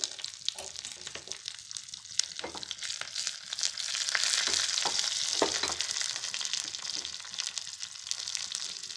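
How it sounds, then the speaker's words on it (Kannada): Green chillies frying in tempering oil make a steady, close sizzle with scattered sharp crackles and pops that swell in the middle and carry on through the whole clip. "ಇದಕ್ಕೆ ಒಂದು ನಾಲ್ಕು ಹಸಿಮೆಣಸಿಗೆ ಕೂಡ ಹಾಕ್ತಾ ಇದ್ದೀನಿ ಒಗ್ಗರಣೆಗೆ"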